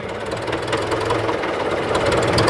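A modified tractor engine runs at idle nearby, a loud continuous knocking rumble with even vibration and no break, heard alone without talk.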